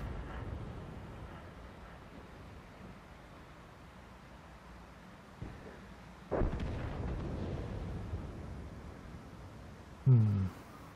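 Artillery fire in World of Tanks, a single heavy boom with a rumbling tail about two-thirds of the way through, then a sharper thud near the end over quiet engine hum.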